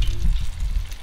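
Breaded fish dropped into hot oil in a cast iron Dutch oven on a grill, giving a steady, close sizzle and crackle of frying with no voices.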